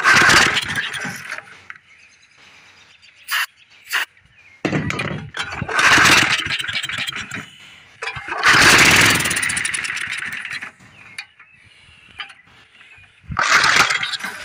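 An old Power Kraft rototiller engine, left sitting for years, being pull-started: repeated loud bursts of cranking and sputtering separated by pauses, without catching into a steady run.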